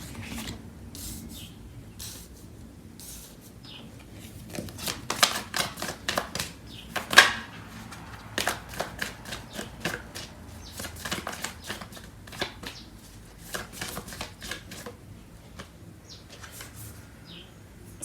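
Tarot cards are shuffled in a quick, crisp run of riffling and flicking clicks that builds to a denser burst midway, close and clear with no talking.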